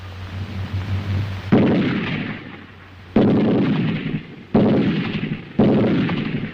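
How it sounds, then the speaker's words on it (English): Rifle fire and machine-gun bursts from a WWII training exercise, heard as four sharp, loud reports in an uneven rhythm, each decaying into a rumbling tail, over a low hum at the start. "The steady, sharp reports of rifle fire from both flanks and the bursts of covering fire from the machine guns."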